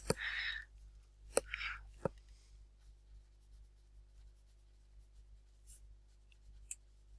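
A pen scratches and taps in short strokes during an online lesson, quiet and close, with several sharp clicks and long near-silent gaps.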